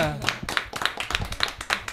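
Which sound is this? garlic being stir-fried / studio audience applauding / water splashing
studio audience applauding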